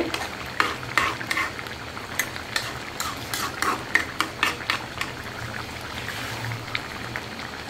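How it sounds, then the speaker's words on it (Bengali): Tilapia fish and eggplant curry being stirred in a sizzling pan, a spoon scraping and knocking in irregular strokes over a constant frying hiss, close and alone. "এই যে আমি বেগুন দিয়ে মাছ দিয়ে রান্নাটা আরেকবার একটু নাড়াচাড়া করে দিচ্ছি"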